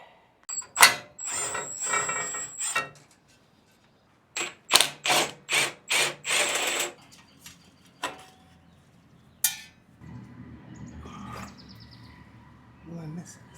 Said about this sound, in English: maybe I could just take out these little intake bolts, pivot that up.